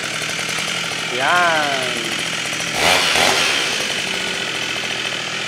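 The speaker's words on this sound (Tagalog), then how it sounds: "Ito naman po yung grass cutter na may gulong." A wheeled trolley-type grass cutter's small motor buzzes steadily and close, rising briefly in pitch twice as it revs, with a person speaking briefly over it.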